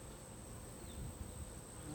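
A close, constant drone of honeybees fills a brief moment of an open-hive inspection, even and unbroken, with faint handling bumps underneath.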